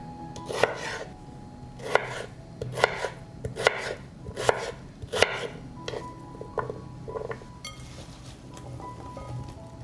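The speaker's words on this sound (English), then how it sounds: "I cut the potatoes into small cubes so that they are baked quickly" Knife chopping potatoes into small cubes on a board, a steady run of sharp close knocks that thins out toward the end.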